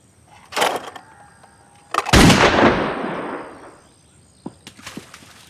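Gunfire in a Hollywood action film: a sharp shot, then a much louder blast with a long echoing tail, followed by faint clicks and smaller pops.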